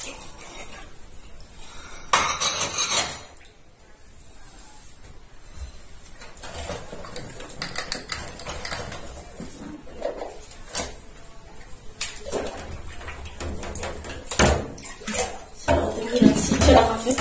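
Dishes and bowls being washed by hand in a kitchen sink, with a stovetop coffee pot to rinse: soft clinks of crockery and running water come and go in bursts, with brief louder splashes near the start and toward the end.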